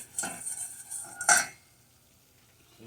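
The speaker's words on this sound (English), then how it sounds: "I am stirring this over a medium flame." Brown gravy is stirred in a pan over a medium flame, metal utensil scraping and clinking against the pan in two short bursts, then quiet.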